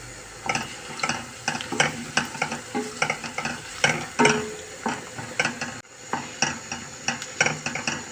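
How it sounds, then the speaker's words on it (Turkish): Onions and peppers sizzle steadily in a pan for bulgur pilaf, with a loud, close frying hiss broken by repeated scraping and stirring clacks of a utensil against the pan. "Soğanla biberim kavruluyor güzel bir bulgur pilavı olacak."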